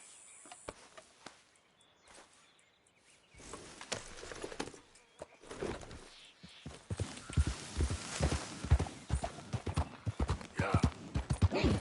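Horse hooves in Red Dead Redemption 2, starting quiet and sparse, then building into a steady clip-clop of a ridden horse, growing louder and more rhythmic toward the end.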